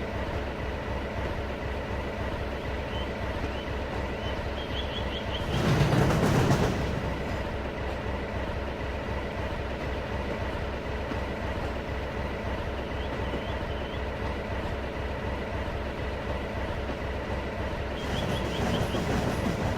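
Mavis the diesel engine hauls her load toward the docks, with a steady rolling clatter of wheels and wagons that swells briefly twice and carries on throughout.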